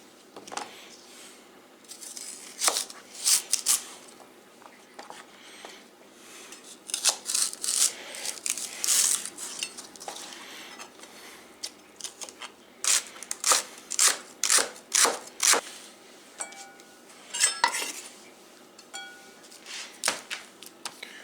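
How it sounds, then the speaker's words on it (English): Sharp knife strokes trim crisp celery on a board, coming in irregular bursts of quick chops separated by short pauses. "Wash and trim the celery."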